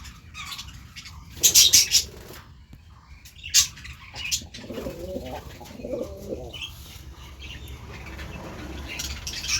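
Budgerigars flutter and flap their wings in bursts, with scattered chirps and a soft cooing in the background.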